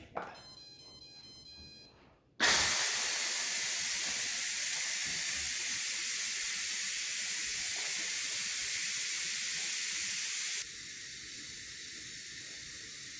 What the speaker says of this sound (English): There was a lot of steam in there. It's just about done releasing